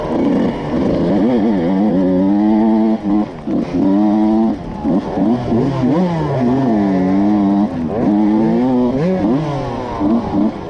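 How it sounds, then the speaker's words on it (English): A KTM dirt bike engine rips through a cross-country race, loud and close with repeated rising and falling revs as the throttle is worked hard. "Listen to that motor rip."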